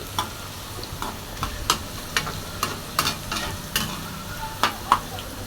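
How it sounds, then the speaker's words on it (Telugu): Bitter gourd pieces deep fry in oil with a continuous crackling sizzle, punctuated by sharp intermittent pops and ticks scattered across several seconds. "ఇంకా కొంచెం మిగిలిన కాకరకాయలు కూడా వేసేసుకున్నాను. అవి కూడా డీప్ ఫ్రై చేసేసాను."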